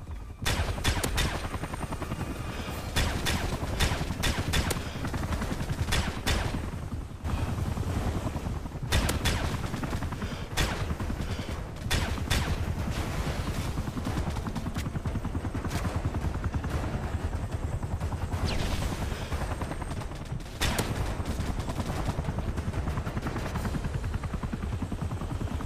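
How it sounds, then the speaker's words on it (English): Gunfire in Call of Duty MW3 during a Kill Switch Special Ops mission on Veteran difficulty: dense bursts of automatic fire and loud shots crackle almost nonstop over a heavy helicopter-like rumble. "Ozone, move position to provide cover fire for Scarecrow"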